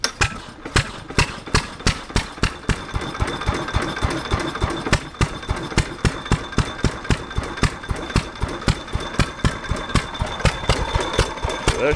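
A 1927 Fairbanks Morse flywheel engine running after being fired up, a loud nearby sequence of sharp, evenly spaced firing beats over a steady mechanical clatter, heard without talk.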